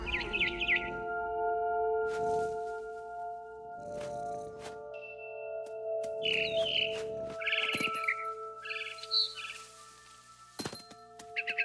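Barn swallow chirping from the video game What Remains of Edith Finch, bright bursts of twittering calls recurring through the scene alongside thumps and a steady tonal hum, moderately near with no one speaking.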